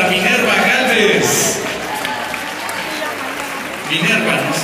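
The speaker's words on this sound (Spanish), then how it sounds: "El aplauso y reconocimiento para Minerva Gálvez" A crowd applauds Minerva Gálvez at a 2013 UNIMODAA gathering: a dense, steady wash of clapping that holds for several seconds, swells again near the end, and carries a murmur of voices underneath.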